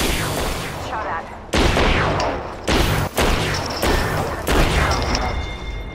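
Gunfire in Apex Legends: several loud bursts of shots and impacts in quick succession, broken by short gaps, with squad chatter mixed in.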